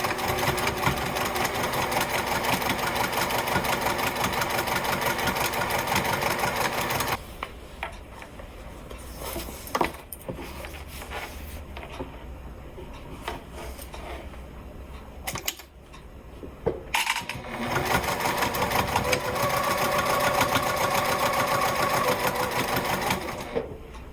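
A sewing machine stitches a narrow quarter-inch seam along the raw edge of fabric wallet accordion dividers, a rapid, even mechanical whir up close that eases off midway, leaving quieter clicks and handling, then resumes at full speed.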